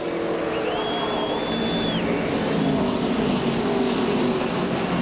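NASCAR Cup race cars, including the 42 and 88, racing in a close pack into a corner, a steady loud roar of engines holding throughout with a brief whine above it.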